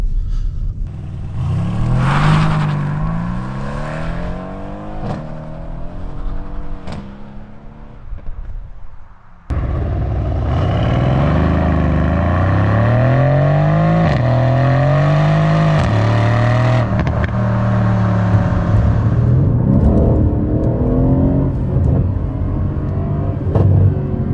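A 2015 Mercedes C63 AMG Estate with its 476 hp 4.0 biturbo V8 accelerates hard from inside the cabin, rising through the gears with a deep rumbling roar, a brief lull at a shift, then another sustained loud pull with repeated upshifts.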